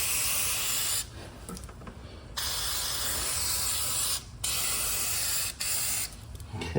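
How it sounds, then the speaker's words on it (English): Lubricant is sprayed from an aerosol can onto a Honda lawn mower's height adjuster in several bursts of close, loud hissing separated by short pauses. "We're going to lube all the way up to that. Going to spray all this."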